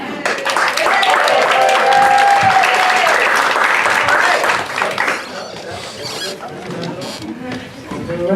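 Loud audience applause with cheers and whoops at a live stand-up comedy class show at PHIT, welcoming the host to the stage; the clapping is dense and sustained, then thins out toward the end.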